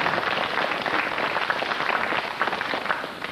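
Studio audience at a radio quiz show claps, a dense even patter of many hands sustained throughout, moderately loud and unbroken by talk.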